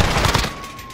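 A short burst of video game gunfire, loud and close, several rapid shots fading off within a second.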